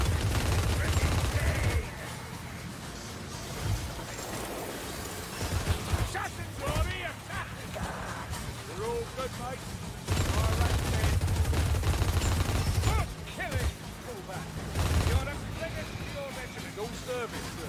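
A gatling gun fires in a medieval fantasy video game in loud, sustained rapid bursts, the first two lasting a couple of seconds each, with a shorter volley later and quieter game noise and voices in the gaps.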